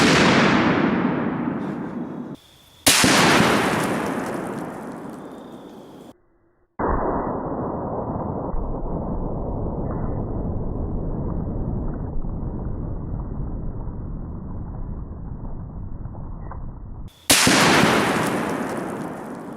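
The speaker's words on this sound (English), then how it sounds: "Let's hit it again with the 50 BMG." A 50 BMG rifle fires armor-piercing incendiary tracer rounds at a 380-pound Atlas stone outdoors: several loud, sharp booms, each decaying into a long rolling echo, with a sustained muffled roar between them.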